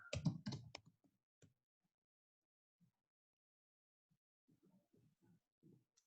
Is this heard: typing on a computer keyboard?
yes